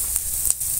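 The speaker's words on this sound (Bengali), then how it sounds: "এবার ভালো করে ধুয়ে ছেঁকে রাখা ডালটা দিয়ে দেবো।" Washed, drained mung dal hitting hot oil seasoned with whole cumin and nigella seeds for a vegetarian Bengali dish, a loud close sizzle with a couple of brief crackling bursts.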